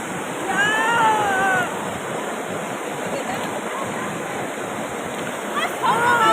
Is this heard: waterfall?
yes